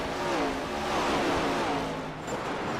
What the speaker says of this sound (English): Man, these cars sound so good.